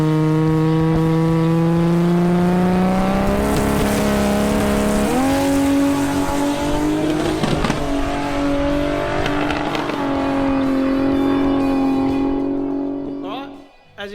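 A Barra-converted XE Falcon revs and accelerates hard on a race track, its engine note climbing through gear changes in a loud continuous drone before fading out at the end.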